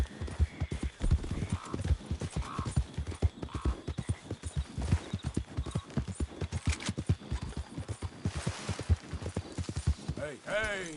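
Horse hooves clip-clop in a steady galloping rhythm, close and loud, while a rider urges the horse on in Red Dead Redemption 2, with a brief whinny near the end.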